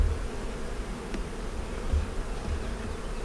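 Honey bees buzzing in a dense, continuous drone close by during a hive inspection of a weak colony being reduced for winter, with no talking.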